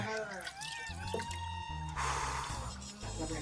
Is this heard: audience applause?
no